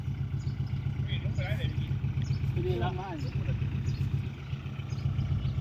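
A farm tractor's engine runs steadily and close by with a low, pulsing drone throughout, while voices talk over it.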